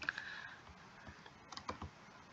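Keys tapped on a computer keyboard while entering text in Tinkercad, a quiet run of light clicks in uneven bursts with a short pause midway, fairly close and with no voices.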